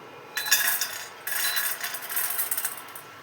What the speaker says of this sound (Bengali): এবার আমি বাটিতে তুলে দেবো।